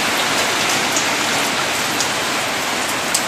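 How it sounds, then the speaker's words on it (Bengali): Heavy rain pours down steadily in a dense, loud hiss with no letup, with no voices over the downpour. "এখন প্রচন্ড বৃষ্টি হচ্ছে,"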